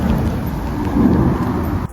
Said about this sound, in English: Oh, it's so windy out here.